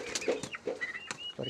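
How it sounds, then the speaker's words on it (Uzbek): Big 6 Bronze turkey chicks, about 35 days old and over a kilo each, give short high peeping calls and a few low clucks in quick, irregular bursts, close by. "Big 6 bronza 708 induk jo'jalarimiz."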